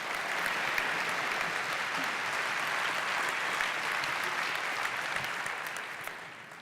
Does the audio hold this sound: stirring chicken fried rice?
no